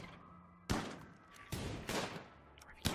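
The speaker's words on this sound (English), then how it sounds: "hit a chinchilla with a shotgun" Shotgun blasts in the video game RimWorld come as several sharp, loud bangs at irregular intervals, each with a short decaying tail, over a quiet background with no talking.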